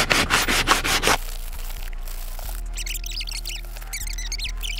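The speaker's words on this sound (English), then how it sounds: "I'm gonna go ahead and use my sandpaper now and we're gonna sand that down" Sandpaper of 600 grit rubs over a leather car seat in a Tesla interior, a few quick rhythmic scratchy strokes at close range followed by a softer steady background hum.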